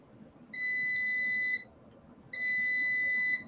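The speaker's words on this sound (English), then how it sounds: "Who's beeping?" Electronic beeping in two long, steady tones of about a second each with a short gap between them, loud and clear, with no talk alongside.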